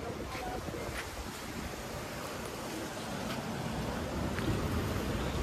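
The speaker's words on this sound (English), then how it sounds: "The water's coming through." Seawater floods through on Holbox Island, Mexico, a continuous rushing wash mixed with wind buffeting the microphone, steady and fairly close.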